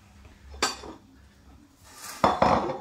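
An Easter nest pastry set down onto a plate, two distinct close clinks and scrapes of crockery about two seconds apart against quiet kitchen background, no voices.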